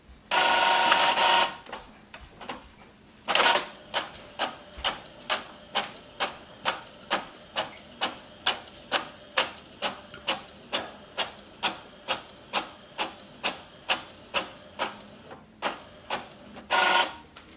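An Epson EcoTank ET-4760 inkjet prints a letter-size photo. A whirring feed burst comes first, then a long run of regular, rapid clacking passes from the print head, ending with another feed burst. No one speaks.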